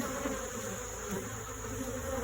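Honeybees from an abandoned hive being split swarm in a steady, dense buzz close by, an unbroken drone of many insects with no voices over it.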